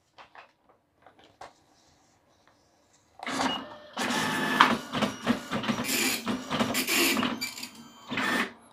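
An Epson PLQ-30 passbook printer prints a settings page: after a few faint clicks and a quiet pause, loud rapid dot-matrix printing bursts in, rasping line after line with brief gaps as the paper advances.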